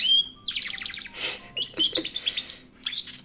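A pet bird sings close to the microphone in bright chirps and warbling phrases, loud and near, broken by short pauses.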